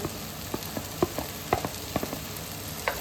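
Carrots hit hot oil in a pan of frying rice, giving a soft, steady sizzle broken by scattered crackles and spatula taps, close and fairly quiet with no one talking.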